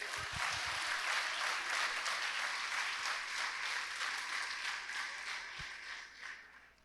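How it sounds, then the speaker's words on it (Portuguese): A church congregation at a Sunday evening conference service breaks into sustained applause, dense and loud at first and then slowly thinning out over several seconds. "Você pode aplaudir a Deus?"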